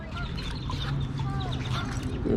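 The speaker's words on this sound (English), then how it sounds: "I think this is the local little duck gang because they keep coming back and forth." Several ducks quack and honk close by at a pond, overlapping calls in a busy cluster over steady outdoor background noise.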